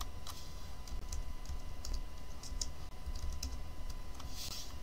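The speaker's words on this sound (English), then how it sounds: "I'm going to type in my mic." A microphone name typed on a computer keyboard, heard as a quick, uneven run of close, crisp key clicks over faint room hum, with no talk.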